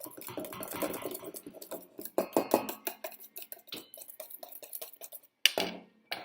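A whisk beats lemon curd mixture in a bowl with rapid, continuous metallic clinking and scraping, close up, steady through most of the stretch before a louder clatter near the end.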